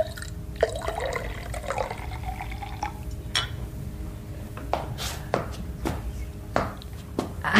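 Water poured into a drinking glass in a rural Mexican household scene, with a soft splashing trickle followed by several light clinks and knocks of glass and crockery.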